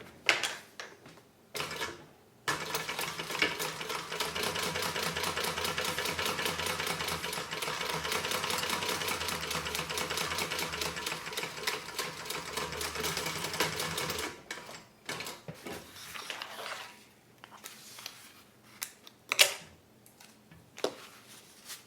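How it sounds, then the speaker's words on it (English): A sewing machine stitches down a range bag seam from top to bottom in one long, steady, rapid whirring run of about twelve seconds, with short starts and stops and handling clatter before and after. "we're just going to go ahead and stitch down from top to bottom"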